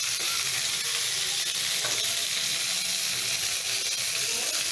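Steady loud sizzling of spice paste frying in hot oil, with occasional stirring scrapes and crackles throughout.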